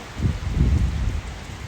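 Steady rain hisses in a low, dense rush during an outdoor run in South Korea, with faint wind rumble and no voices.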